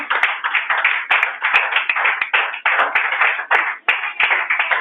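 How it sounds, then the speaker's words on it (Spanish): A church congregation claps loudly and close by in a choppy, uneven burst, with several sharp individual claps standing out above the crowd. "Prenden un fuerte aplauso a Jesucristo"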